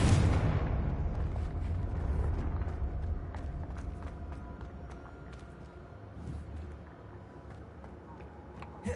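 Explosive Bombarda and Confringo spells go off in a video game, a loud blast at the start rolling into a long, decaying rumble with scattered crackles and small pops, ending in a brief burst.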